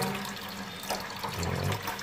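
Water poured for preparing ackee in an outdoor cooking setting: a short, steady splashing pour with running-liquid hiss, close and moderately loud.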